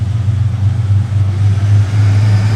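An older Ferrari car engine runs nearby with a loud, steady low rumble and slight fluctuations, as if idling or moving slowly. No voices are present.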